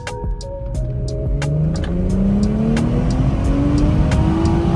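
A BMW 340i accelerates hard, its engine note climbing steadily through a long pull and then shifting to the next gear, loud and close with a faint whine rising alongside.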